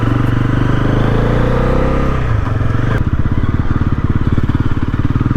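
A Bajaj Pulsar NS400Z 400cc motorcycle roars through its exhaust while being ridden, loud and close. The engine note drops partway through, then settles into a rapid, steady pulsing throb.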